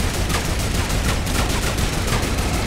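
Turret gunfire in Fortnite Creative: a steady, dense stream of rapid automatic shots that keeps up without pause, loud and close throughout.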